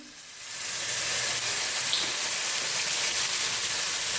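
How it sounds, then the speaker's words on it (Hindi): Vinegar splashed into a hot pan for chicken and vegetable macaroni, setting off a loud, steady sizzle that swells in the first half second and then holds a dense, even hiss with no voices. "अब मैं इसके अंदर सिरका डालूंगी, अंदाजन मैं तकरीबन 2 चम्मच डालूंगी।"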